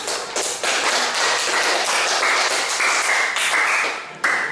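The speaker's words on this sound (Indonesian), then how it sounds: "Tepuk tangan." A classroom of students claps together after a group presentation, a dense, loud burst of hand claps that holds steady for a few seconds and then quickly tapers off, close to the listener, with no talking.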